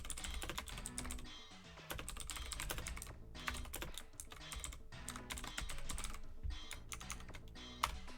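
Rapid clicking keystrokes from a computer keyboard with clicky switches, a dense, continuous clatter of keys close up throughout with brief pauses.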